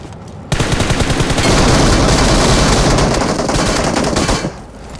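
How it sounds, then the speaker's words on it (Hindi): Enemy players firing guns in PUBG Mobile: a loud, dense, sustained burst of automatic gunfire lasting about four seconds, rapid overlapping shots from several weapons, with no talking. "यहाँ पे जैसे ही मैं पीक निकलता हूँ 2-3 बंदे फायर करते हैं"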